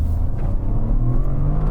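A Toyota GR Corolla with a three-cylinder turbo engine and six-speed manual pulls hard, a close, steady rising engine drone with a faint whir, heard alone from inside the car.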